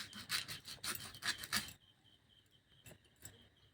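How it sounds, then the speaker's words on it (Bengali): A boti blade slices the husk of a green coconut in four or five quick, loud, rasping strokes, then only a faint scrape or two follow in near quiet. "বটি দিয়ে আমি ডাবটা কেটে নেব"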